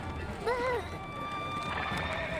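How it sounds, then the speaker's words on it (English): A horse gives a short, wavering whinny that rises and falls, heard briefly against a low, busy background rumble. "Two of her horses suddenly bolt forward, as if testing the strength of the people behind them"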